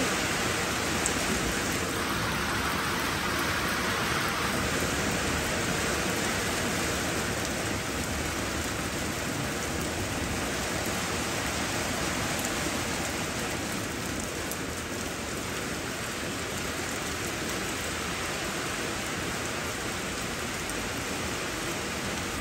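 Heavy rain pours onto a galvanized sheet metal roof at a ranch, a loud, dense, unbroken drumming hiss that holds steady throughout with no talk.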